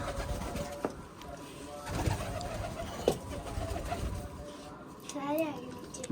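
Pigeons coo softly nearby amid background voices and light clatter, the low throaty calls rising and falling.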